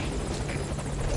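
A helicopter in the video game Metal Gear Solid V: Ground Zeroes gives off a loud, close, continuous rotor thrum with a chopping low-end pulse, heard alone for a short moment.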